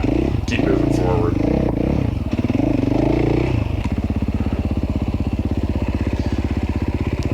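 A KTM EXC enduro motorcycle with fuel injection and a remapped ECU works across dry, powdery dirt during a hard enduro race, its engine loud and close, shifting from varied revving into a steady rapid pulsing, with clattering over it.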